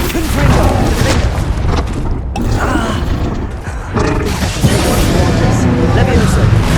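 Explosive spell blasts in the video game Hogwarts Legacy, loud booming bursts and rumbling impacts that follow one another steadily, mixed with combat grunts and a voice.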